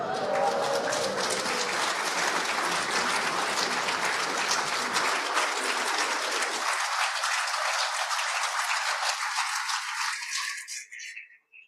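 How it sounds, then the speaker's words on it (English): A synagogue congregation claps warmly for a 102nd birthday at a Shabbat morning service, sustained dense applause that thins and fades out over the last few seconds. "The applause is wonderful and well merited"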